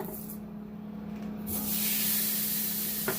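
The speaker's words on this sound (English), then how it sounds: "So we're going to put this right on our grill." Seasoned food dropped onto a hot grill sets off a steady, loud hissing sizzle that swells after a moment and keeps going, close up with no talking.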